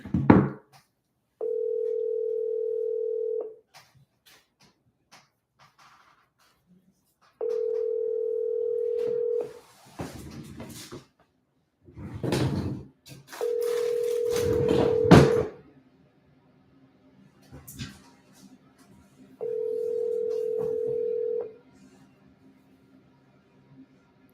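An outgoing phone call rings without being answered: four steady, evenly spaced ringback tones about two seconds each, with brief clicks and faint background noise in the gaps.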